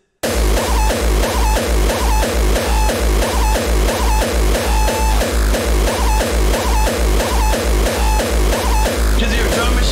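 A loud, driving distorted drum machine loop in a hard electronic style, with fast, regular booming kicks and crunchy hits repeating steadily throughout, starting after a brief silence.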